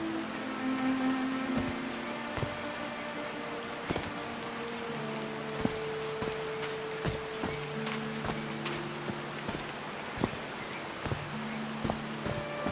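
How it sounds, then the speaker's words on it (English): Steady rain falls in the video game Call of the Sea, a soft continuous patter with scattered sharper drips and taps, under a faint low musical tone. "These drops of rain are so refreshing."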